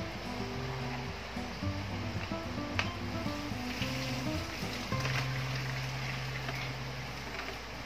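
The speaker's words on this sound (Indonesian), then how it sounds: "Ini setelah matang, segera dibuang airnya." Hot water being poured off boiled sweet potatoes, a steady rushing splash that lasts throughout, with music playing underneath.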